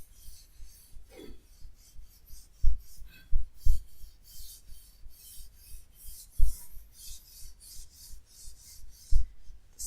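Fine 000 steel wool rubs back and forth over a wooden tool handle. The rasping strokes are close and rhythmic, with soft knocks from the handle at intervals, and no voice is heard.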